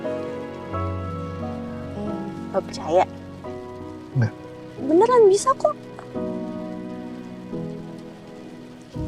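Heavy rain falls as a steady hiss under people talking and laughing, with some music over it.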